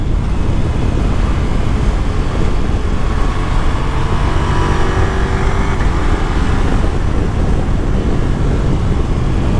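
A Ducati Multistrada V4 S motorcycle's engine roars loudly and steadily under way throughout, with rushing wind noise layered over the continuous mechanical drone.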